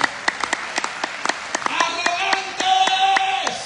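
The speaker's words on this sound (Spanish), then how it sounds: "Den un fuerte aplauso a Cristo" A church congregation gives scattered, uneven claps near and loud at first, thickening into fuller clapping as voices and a sustained tone rise over it.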